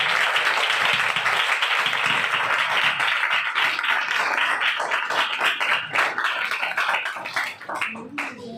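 A church congregation at a tabernacle in Lahore breaks into vigorous applause, a dense sustained patter of many hands clapping that stays loud for several seconds before thinning out near the end.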